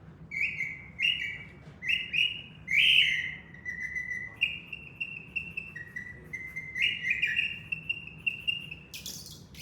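A person whistles in imitation of real bird calls, producing a run of bright, chirpy, sliding tweets and trills in quick succession, close and fairly quiet, with no talking.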